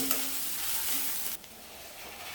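Spinach curry with garam masala fries in a pan, a steady close hiss and sizzle with stirring that drops abruptly quieter partway through, no talk.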